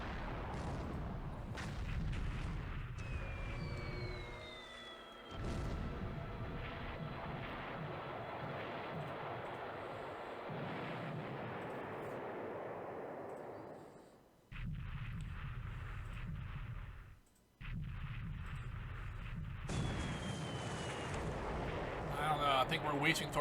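Torpedo explosions and heavy booms rumble through a naval war video game set in December 1941, in repeated blasts amid whooshing aircraft-like noise, fairly loud, with some voices talking over it.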